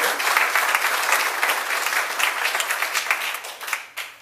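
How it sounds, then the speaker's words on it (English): Dense applause from a town hall audience on police violence, sustained and loud across the whole stretch, thinning slightly near the end, with no talk over it. "So let's give a round of applause for our city attorney."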